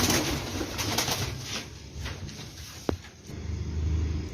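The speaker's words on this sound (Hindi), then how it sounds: "सर ये लाखला ओरिजिनल कबूतर है मेरा।" A Lakhla breed pigeon coos softly, with a brief sharp click partway through and a low rumble of traffic in the background.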